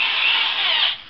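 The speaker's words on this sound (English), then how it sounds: "Get my drill, get my bit." A corded power drill runs steadily at high speed for about a second, a loud close whine that cuts off abruptly, with no voices.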